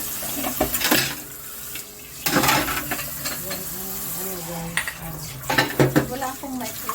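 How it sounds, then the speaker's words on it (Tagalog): Running water splashes into a sink while plates and dishes clatter and scrape in a close, uneven rhythm, with bursts of flow and a faint voice now and then. "Saka maghugas ng plato."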